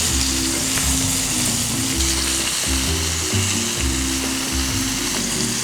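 Fish tofu fries in very hot oil in a pan, giving a steady, loud, continuous sizzle with a low droning hum underneath throughout.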